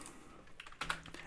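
Quiet, rapid typing on a computer keyboard, a short run of soft key clicks close by with no talking.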